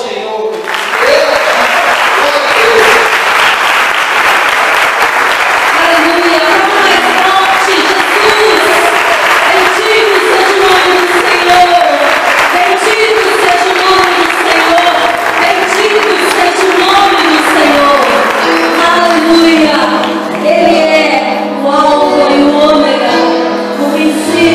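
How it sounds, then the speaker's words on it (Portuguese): A Baptist congregation applauds at a Sunday worship service in Brazil, sustained loud clapping from a full room that carries on over rising music and voices before gradually thinning. "Aplauda ao Senhor, Deus."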